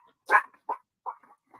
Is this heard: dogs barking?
yes